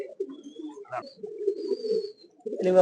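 A pigeon in a loft gives a series of soft, close cooing phrases, with a few faint chirps from other birds between them.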